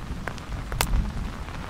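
Heavy rain in a horror radio play falls as a dense steady hiss, with a few close sharp splashes and thuds and no talking.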